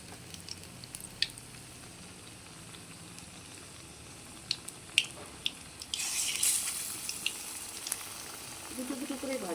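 Eggplant cutlets going into hot oil in a pan, a faint low sizzle that swells louder partway through as more are added, with light clinks and a brief voice near the end.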